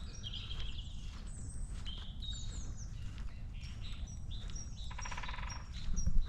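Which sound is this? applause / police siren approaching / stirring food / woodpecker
woodpecker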